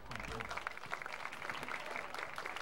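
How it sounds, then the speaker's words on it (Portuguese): An audience claps during a trophy presentation at the opening of school games in Serra Negra do Norte, a quiet, distant-sounding patter of hands under crowd murmur with a voice partly audible. "vamos aplaudir"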